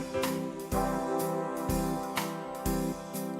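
A KETRON SD90 arranger module plays a big-band style pattern with punchy drum hits and brassy horn stabs in a steady repeating rhythm, clear and upfront with no talking.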